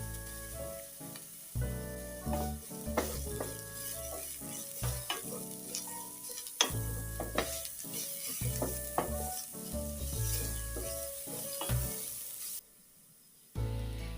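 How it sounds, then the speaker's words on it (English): Grated carrots, onions and garlic frying in a pan, a steady loud sizzle with stirring and scraping strokes throughout, close up, cutting out briefly near the end before resuming. "I am going to cook them on one side while the onions and the garlic cook on the next"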